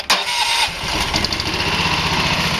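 A 13 hp Prowler small engine cranks and catches as the choke is opened, sputtering briefly before settling into a loud, steady running rumble close by.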